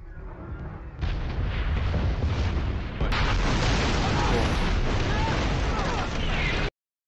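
Bombing and artillery explosions in a TV war drama form a loud, sustained roaring barrage that surges abruptly, with dense rumbling blasts and faint voices mixed in.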